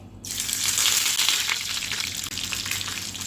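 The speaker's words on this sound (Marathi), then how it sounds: "आता एकदा तेल तापलं की ह्याच्यात आपण फोडणी करणार" Loud, steady sizzling of spices crackling in hot oil, a dense hiss that starts abruptly and continues without pause.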